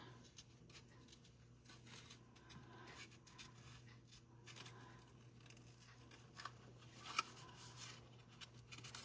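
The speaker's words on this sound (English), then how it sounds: "When you are fussy cutting paper, you turn the paper instead of your scissors." Soft, intermittent snips and paper rustles from scissors fussy cutting cardstock paper, quiet and close, with small pauses between cuts over a low hum.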